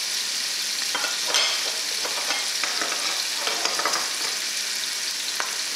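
Onions frying in a pan give a constant bright sizzle, with soft scraping strokes of stirring scattered through it, close and steady.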